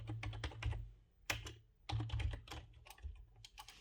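Fingers type on a computer keyboard in quick clusters of crisp, close key clicks, separated by short pauses, loud and clear with nothing else audible.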